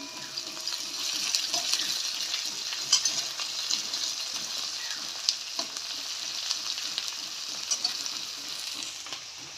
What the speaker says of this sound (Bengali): কড়াইতে পেঁয়াজ দিয়েছি পেঁয়াজটা ভাজা ভাজা হয়ে গেল